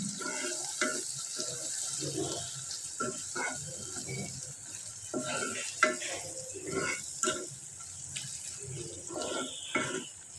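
Salted hilsa fish frying in a pan while dried fish is cooked, a steady sizzle with stirring and scraping throughout, close and moderately loud.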